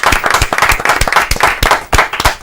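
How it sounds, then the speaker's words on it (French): Close, energetic applause from a small studio audience on a Christmas special radio show, with distinct individual claps in an uneven, lively rhythm. "d'applaudissements s'il vous plaît"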